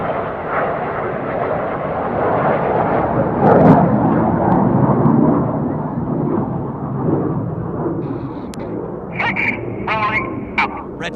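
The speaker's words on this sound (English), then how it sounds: "Let's give the Synchro Pair a big wave as they fly past upside down" Red Arrows Synchro Pair jets roar past upside down at an Eastbourne airshow in 2015, a loud swelling rush that fades, with crowd voices and faint chatter near the end.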